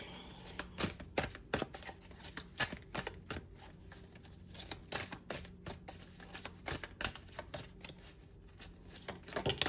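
Tarot cards are shuffled and drawn in a quiet room, with a run of sharp, close riffling snaps and slaps coming in uneven bursts and pauses between them, and nobody speaking.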